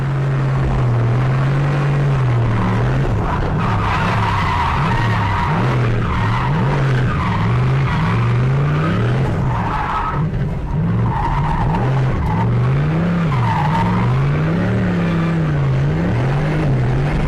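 A turbocharged 1UZ-engined drift car slides hard, its engine roaring and wavering under constant loud tire squeal and skidding, close and continuous throughout.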